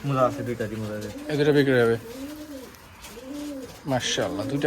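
Giriraj pigeons at a colour-matched pigeon farm in Rajshahi give close, repeated throaty cooing calls, rising and falling in a rolling rhythm, with short pauses between bursts.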